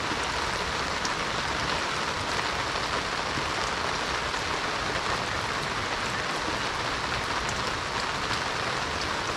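Steady rain falls in a dense, even hiss, pattering on surfaces nearby without pause and with no voices.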